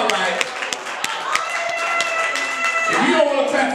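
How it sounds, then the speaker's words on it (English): A church congregation claps in scattered, uneven strikes during a worship service, each clap sharp and distinct over a continuous murmur of voices and background sound. "you need to be clapping for yourself"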